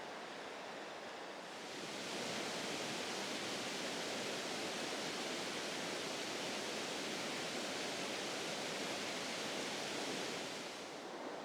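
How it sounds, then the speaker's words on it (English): Rapids on a Dartmoor river churn in a continuous broadband roar, swelling in after a couple of seconds and holding steady and close with no voices. "just passing this slack piece of water between the rapids"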